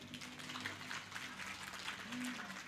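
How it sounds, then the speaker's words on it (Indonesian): Audience applause at the 77th anniversary celebration of Muslimat NU, a faint, steady patter of many hands clapping in a large hall, distant and continuous, with a faint murmur of voices beneath. "Boleh tepuk tangan Ibu?"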